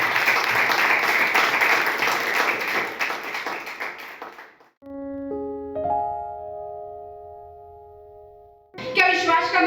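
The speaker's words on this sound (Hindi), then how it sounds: "आइए एक बार हम खड़े होकर जोरदार तालियों का अर्पण हमारे प्रभु यीशु मसीह को करें।" Sunday church service congregation standing to give loud applause to Jesus Christ, a dense roar of clapping for about four seconds that fades out, followed by sustained keyboard or organ tones and another loud burst at the end.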